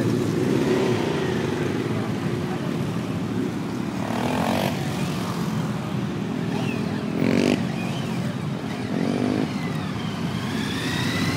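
Motorcycles revving in a crowded parking lot, engines droning and rising in bursts near and far, with people talking over the steady roar.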